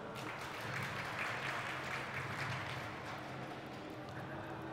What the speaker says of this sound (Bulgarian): Вашите аплодисменти за Етърно.